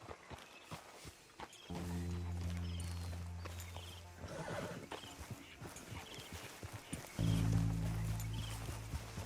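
Video game horse hooves clip-clop in a steady walking rhythm, close by, with a low droning tone swelling in and out and a brief whinny.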